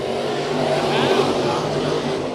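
A pack of race cars roars together at the green flag on Bakersfield Speedway during heat races, a dense, continuous engine drone swelling slightly as they accelerate, heard from a distance under a faint background of crowd noise.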